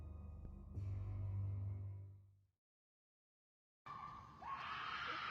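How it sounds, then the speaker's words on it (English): A woman lets out a long, loud, harsh scream in shaky phone footage, fading out into silence. After the pause, a burst of rough noise and distorted sound follows. "you're able to hear a woman scream that sounds like it was pulled straight out of a nightmare"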